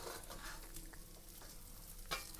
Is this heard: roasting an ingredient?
yes